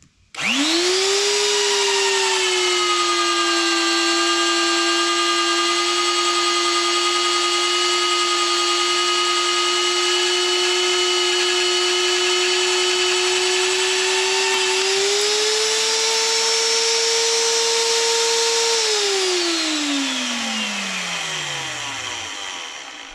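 A VEVOR magnetic drill runs loud and close as it bores into steel for a fork and hay spear frame. Its motor hums steadily, rises in pitch near the end, then spins down, with no talking.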